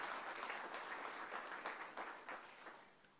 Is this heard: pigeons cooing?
no